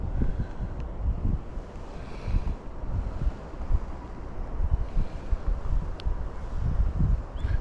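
Wind gusting outdoors during a lure fishing outing, with a steady low rumble and buffeting against the microphone throughout and no voices.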